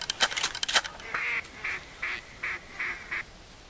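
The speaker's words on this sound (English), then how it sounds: "Hey, Deer, look at all them ducks." Ducks calling in theHunter video game during a duck hunt, a series of about six evenly spaced honking quacks at moderate distance, following a few sharp clicks at the start.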